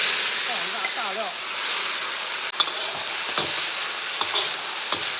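Star anise and chicken aromatics stir-fry in hot oil with a dense, close sizzle and scattered spatula scrapes against the wok, while a voice briefly speaks underneath.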